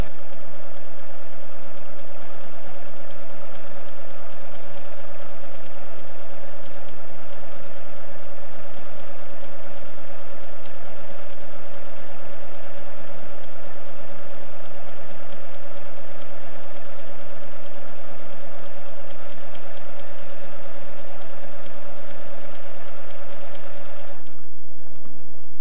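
A computerized sewing machine stitching lace gives a steady, loud mechanical hum with a constant whirring tone that runs unbroken for most of the stretch, then stops near the end.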